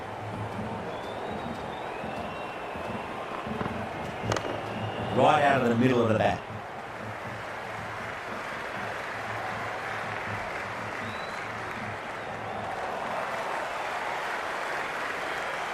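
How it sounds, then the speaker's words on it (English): A cricket crowd at an India versus Pakistan T20 World Cup final keeps up a steady broad buzz and roar from the stands, with a brief louder surge partway through and commentary talking over it. "There's a buzz, a real buzz coming from the stands."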